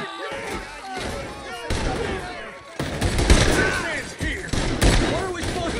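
Gunfire in Red Dead Redemption 2: several loud, sharp shots burst out irregularly over a busy game soundscape while voices talk over the action.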